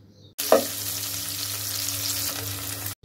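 Chopped onion and garlic hitting hot oil with a sudden loud sizzle that holds as a dense, even crackling hiss for a couple of seconds before cutting off.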